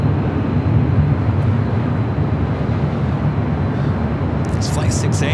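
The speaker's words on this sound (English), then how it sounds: "Sounds like we got Aer Lingus heading up to 24 left." An Aer Lingus Airbus A330-300 jet bound for Dublin produces a steady, loud broadband roar while taxiing to runway 24 left at LAX, a continuous low rumble with no breaks.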